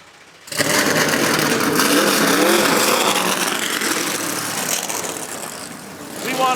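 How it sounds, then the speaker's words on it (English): NASCAR Sprint Cup race cars roll out of their garage stalls at Auto Club Speedway. After a brief quiet, a loud engine roar starts up close and holds steady, rising again near the end. "they're letting some of these cars out of their garage stalls right now"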